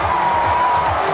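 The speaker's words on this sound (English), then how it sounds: "Crazy cricket, and the crowd have gone nuts" A large cricket crowd roars and cheers after an Indian run-out, a dense and steady wall of noise with no pauses, heard from within the stadium.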